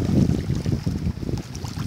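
Gusty wind at a natural fishing spot in Suan Phueng buffets the microphone in a steady, close low roar with small surges, no voices.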